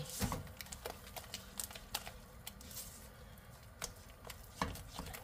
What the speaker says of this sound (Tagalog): Haluin lang natin ang haluin yan hanggang sa madurog po natin yung yung ating malagkit.